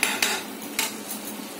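Rohu fish masala with turmeric sautéed in a pan, three quick spatula scrapes and clinks over a soft background sizzle, close and brief.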